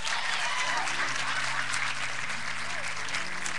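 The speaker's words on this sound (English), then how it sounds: "Y'all clap. Y'all clapping for my daughter." A church congregation claps steadily and thickly for the pastor's daughter, a continuous wash of applause throughout, with a voice talking over it.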